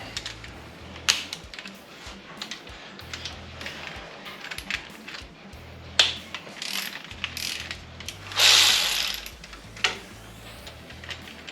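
A ratchet clicks in short bursts while a bolt is turned during a car water pump replacement, close metallic pawl ticks with brief pauses and a few clanks of tools.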